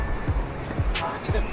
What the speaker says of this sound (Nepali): खोलाको आवाज सुन्दै गरम क्या